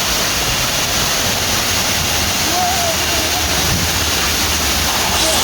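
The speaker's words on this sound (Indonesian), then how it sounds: "Kita hari ini sampai di air terjun destinasi wisata di salah satu kabupaten Ngawi" Pengantin waterfall in Ngawi, Indonesia roars loud and close, a continuous dense rush of falling water that stays even throughout.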